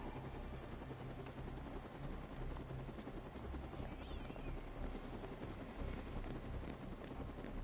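A rescue helicopter in the video game Dead Rising 2 thrums with a steady rotor drone, moderately distant and continuous beneath low background game sounds.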